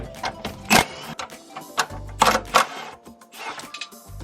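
A ratchet turns a 12mm socket to loosen a sway bar bracket bolt on a Subaru Crosstrek, giving several bursts of quick metallic clicking close up, with brief pauses between the runs.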